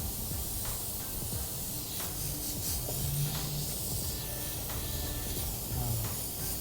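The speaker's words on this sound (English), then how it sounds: "it's spraying out a lot of paint" A paint spray gun at a custom painting studio in Colorado sprays paint in a steady, close hiss that continues without a break throughout, with faint background clatter underneath.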